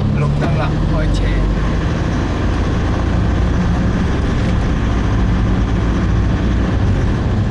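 A learner's car on a Hong Kong driving-test route in Yau Tong pulls away at a green light: a steady, loud low engine and road rumble fills the cabin throughout, with an instructor talking over it.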